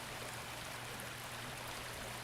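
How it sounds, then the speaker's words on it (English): A gentle water stream trickles continuously as a sound effect within a song, a faint steady hiss of running water with no voices. "there's this sound effect of water"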